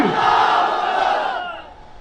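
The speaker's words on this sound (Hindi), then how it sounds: "तो लगाओ मेरे साथ नारा मिलकर, नारे तकबीर, नारे तकबीर।" A large crowd at an AIMIM political rally in Bahraich, Uttar Pradesh roars a slogan together in one loud, sustained chant that swells and then fades over about two seconds.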